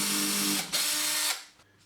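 A power drill bores a pilot hole for a bathroom indicator door bolt in two short high-pitched whirring bursts, close up, the second ending abruptly.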